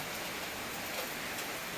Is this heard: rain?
yes